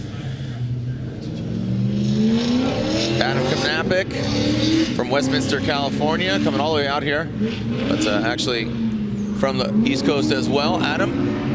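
A Formula Drift Texas drift car in Pro 2 qualifying revs hard with a loud, sustained engine roar that rises and falls as it lifts and gets back on the throttle, under continuous commentary.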